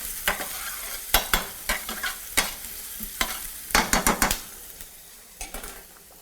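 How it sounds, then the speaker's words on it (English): Chopped onion and garlic saute in a pan, a soft sizzle under repeated sharp scrapes and clinks of a utensil stirring against the metal, coming in uneven bursts, with no talking. "You saute chopped onion, chopped garlic together."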